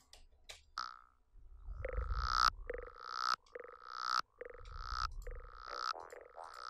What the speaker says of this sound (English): that gives it that really cool down pitching effect that you hear as well